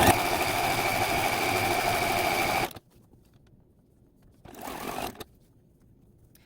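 A sewing machine runs fast and steady while stitching quilt sashing seams, stops abruptly, then makes a second short burst before going quiet again, close and clear with no talking.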